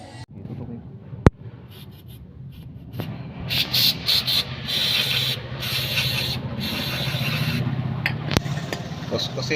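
Repeated scrubbing and rubbing on Kawasaki ER-6N motorcycle engine parts coated in aerosol engine degreaser, steady brushing strokes close up with a couple of sharp knocks, and a voice speaking briefly over it.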